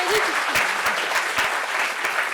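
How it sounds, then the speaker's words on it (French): Audience applause at a French-language gathering, with dense steady clapping running the whole stretch, fairly close and loud, with a few sharper individual claps standing out. "On peut applaudir pour son mari."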